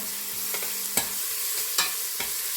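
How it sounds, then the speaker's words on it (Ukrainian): Steady frying sizzle of grated carrot in a pan with a few sharp scrapes and taps of a utensil stirring, no voices. "Кинула сюди морквочку і так морквочка трішки протушується"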